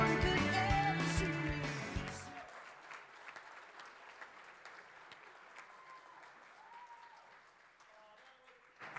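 Audience applause after a song performance: music rings out at the start, then sustained clapping carries on alone at a moderate level for several seconds, gradually thinning.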